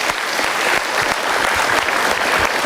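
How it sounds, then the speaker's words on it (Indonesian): A live audience at the Mario Teguh Super Show, a motivational seminar, breaks into applause. The clapping is loud, dense and sustained, filling the entire moment evenly with no talking over it. "Kita harus berikan tepuk tangan"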